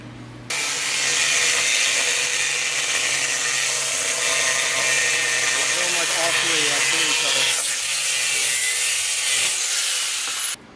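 A power cutting tool slices and trims a steel exhaust hanger during a custom exhaust build on an SR-Z, making a loud, continuous, harsh grinding whine that runs steadily for about ten seconds up close, then cuts off.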